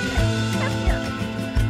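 A backyard chicken clucking in a rapid series of close, loud calls with a rhythmic pulsing beat, with no talking.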